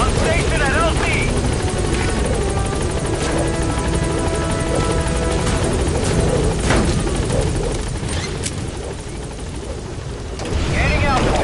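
The Pequod helicopter in Metal Gear Solid V roars close and loud with a steady rotor chop, joined by radio voices talking over the engine noise.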